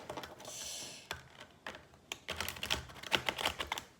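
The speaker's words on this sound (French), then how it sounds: "les cartes sont tellement grandes sur ce jeu que j'ai du mal à les brasser" Large, thick playing cards being shuffled, a quiet run of papery riffling, flutters and soft taps that comes in uneven bursts with short pauses between them.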